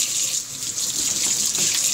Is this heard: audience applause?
no